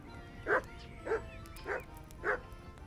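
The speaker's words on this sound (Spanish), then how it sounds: "el perro, los ladridos del perro" A dog barks in the Kingdom Come: Deliverance video game, four evenly spaced single woofs about half a second apart, moderately near and alone.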